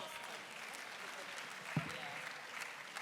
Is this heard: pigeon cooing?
no